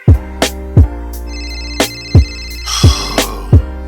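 A phone ringtone from an unknown caller, a loud, sharp electronic tone that repeats in a steady rhythm of punchy bursts, close and clear with no talking.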